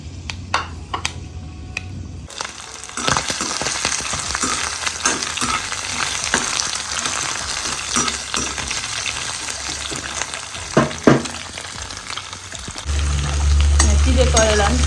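Chopped ingredients frying in a hot pan for a home pork curry meal, with a steady sizzle punctuated by scraping stir strokes and clinks, and a louder burst of hissing near the end.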